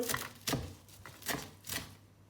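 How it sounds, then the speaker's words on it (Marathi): A knife chops fresh coriander on a board for Goan green curry paste, four or five crisp, close strikes spaced about half a second apart. "ही हांव आतां कोथमीर कातोता"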